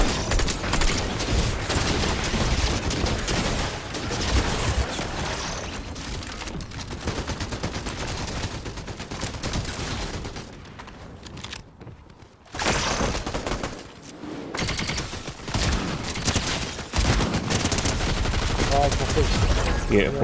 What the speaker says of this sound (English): That's some aggressive shooting